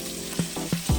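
Meat searing in a frying pan while cooking a Bolognese lasagna, a soft steady sizzle alone with three brief low thumps from the pan, close and moderately loud.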